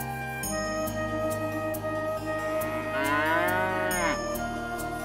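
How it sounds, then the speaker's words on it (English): A farm cow lets out a single long, loud moo that rises and falls, close by, over a steady background hum with no talking. "My husband has bought a new cow."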